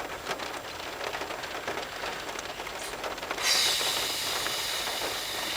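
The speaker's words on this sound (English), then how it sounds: "Where do you think this storm came from?" Steady rain from a storm hissing on surfaces, a dense continuous wash that grows louder and brighter partway through, with no voices.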